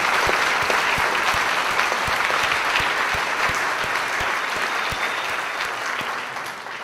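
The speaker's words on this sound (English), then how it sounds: "So one last round of applause for all of our speakers." A school crowd at a TEDx event at Bedford High School gives the speakers a closing round of applause: loud, crowded clapping with some heavier claps standing out, easing slightly toward the end.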